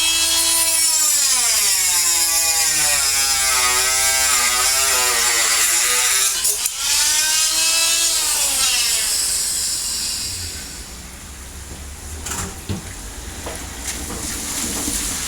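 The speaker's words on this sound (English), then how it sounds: "I'm just using a cutoff wheel on a high-speed grinder to cut it off" A cutoff wheel on a high-speed grinder cuts through material during boat construction, its loud, close, whining pitch wavering up and down for about ten seconds before giving way to quieter scraping and knocks.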